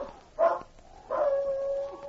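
A husky in the Yukon howls in a radio drama sound effect, a short rising cry followed by a longer sustained, tonal howl that holds steady before trailing off, fairly close and alone.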